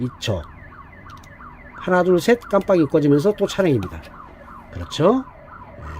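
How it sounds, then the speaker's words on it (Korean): An ambulance or fire truck siren passes outside, its rising and falling wail faint and distant beneath a person speaking close by indoors. "밖에 지금 뭐 앰뷸런스 소리가 들려서 좀 미안하긴 합니다."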